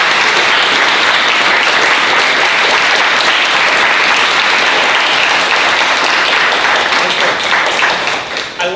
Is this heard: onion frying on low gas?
no